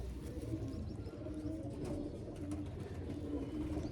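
Soft, low cooing from pigeons repeats over a quiet background murmur, faint and without any speech.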